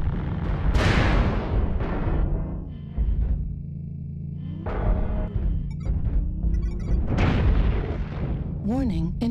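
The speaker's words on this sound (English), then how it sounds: "Warning, incoming missile." Missiles explode in a video game: several deep, rumbling booms land a few seconds apart, each swelling and fading, while a synthetic voice speaks between them.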